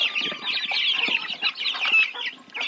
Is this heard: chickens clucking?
yes